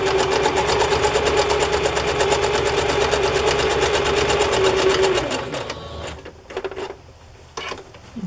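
A sewing machine stitches fabric for a journal cover, running loud and fast with a rapid, steady needle clatter for about five seconds before stopping, leaving a few light clicks and handling noises.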